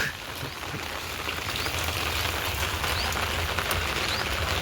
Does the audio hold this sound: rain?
yes